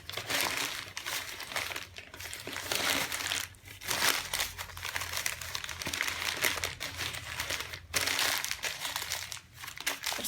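Sheets of newspaper are crumpled and squeezed by hand into a ball, giving repeated papery crinkling bursts close up with brief pauses between squeezes over about ten seconds.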